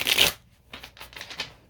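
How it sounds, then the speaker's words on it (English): A deck of tarot cards is shuffled close up: a sharp riffle burst followed by several softer, quick flicking and sliding strokes, with no one talking. "one more good shuffle"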